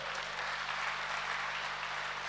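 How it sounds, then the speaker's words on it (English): A church congregation claps together during a sermon, a steady, even wash of applause that stays fairly soft throughout, with no voices rising above it. "Clap for Jesus."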